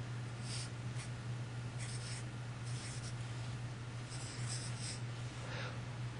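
Chalk or marker strokes on a board during a lesson come as several short scratchy bursts over a steady low electrical hum, faint and close, with no talking.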